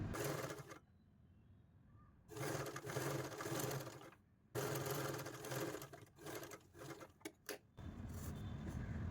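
An electric sewing machine stitches the folded inner edge of a V-neck, running in close, loud bursts of rapid whirring with short pauses and a few quick stop-start jabs.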